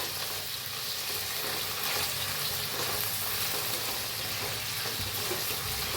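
Potatoes sizzle steadily in hot oil with green chillies and fresh curry leaves, a dense crackling hiss broken by soft scraping as the mixture is stirred in the pan.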